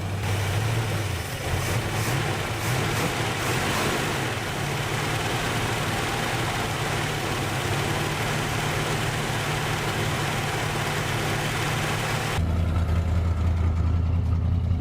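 A 1967 Buick GS 340 V8 runs steadily at a rough idle, its low droning rumble continuous and close, with a shift in tone near the end as the engine note changes.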